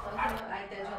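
A stray dog barks at an animal charity in San Cristobal de las Casas, giving a short burst of barks and yips under a voice that is speaking.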